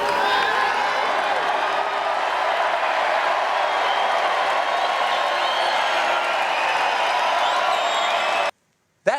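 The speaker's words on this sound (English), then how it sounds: "He gets applause for sipping water." A crowd at a political rally applauds and cheers steadily and fairly loudly for about eight seconds, then the sound cuts off abruptly near the end.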